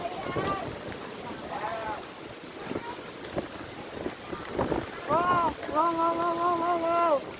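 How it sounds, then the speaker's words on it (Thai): Strong wind buffets the microphone with a steady, loud roar at a reservoir dam, with a voice speaking briefly in the middle and a sustained tonal whine or horn near the end. "ลมแรงมากเลย"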